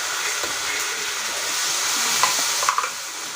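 Spinach greens sauté in a pan with a steady, close sizzle and a few soft stirring scrapes near the end, no voices.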